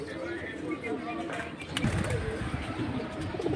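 Giribaz pigeons cooing in a pigeon collection, soft repeated coos and bird calls close by beneath ongoing conversation and background bustle.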